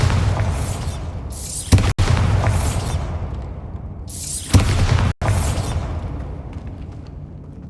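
Bombarda blasting spell explosions in the video game Hogwarts Legacy, two loud booming bursts a few seconds apart, each with a sharp crack and a rumbling decay.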